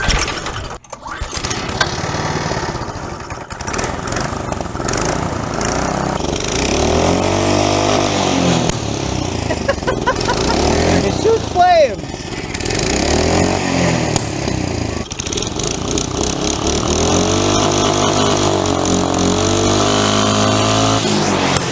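A go-kart engine is held at full throttle, a loud, close, steady buzzing roar with surging, wavering revs that runs nonstop for about twenty seconds.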